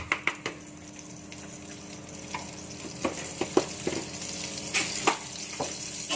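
A spoonful of butter melts in a pan with a soft, steady sizzle, broken by several sharp clicks and knocks from the cookware.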